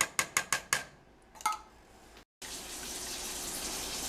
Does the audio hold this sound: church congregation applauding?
no